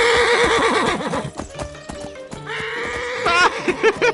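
A cartoon horse neighs and whinnies repeatedly in loud, wavering cries, mixed with hoof clip-clops and other animated sound effects, close and prominent throughout.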